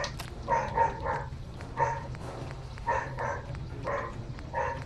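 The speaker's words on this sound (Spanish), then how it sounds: "Tengo ahora al perro del vecino ladrando." A neighbour's dog barks in short bursts of two or three yaps, repeated about six times at a moderate distance over a low background hum, with no one talking.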